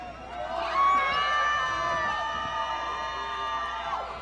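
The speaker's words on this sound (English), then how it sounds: "The louder you cheer, the harder they fight." A crowd cheers at a women's MMA fight: a sustained roar of the arena audience, with whoops and shouts rising and falling across the whole stretch.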